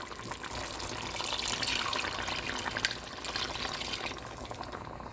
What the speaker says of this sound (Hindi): अब मैं इसमें 1 कप गर्म पानी ऐड करूँगी